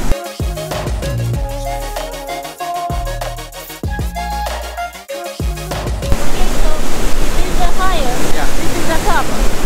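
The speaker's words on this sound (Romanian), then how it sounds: "Că de aici pleacă cascada aia mare, nu? Suntem în vârful cascadei, nu?" Standing at the top of a large waterfall in the Sri Lankan jungle, a loud, steady rushing roar of falling water takes over in the second half after a stretch of tonal music, continuing evenly to the end.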